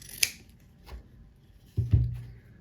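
Scissors snipping fabric beside a sewn seam on a table runner or napkin, a few sharp close cuts with short pauses between them.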